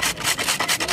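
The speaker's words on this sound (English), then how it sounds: "I get the grater now, and I just do like this." Food being grated by hand on a grater in rapid, even back-and-forth strokes, loud and close with a rough scraping rasp and no talking.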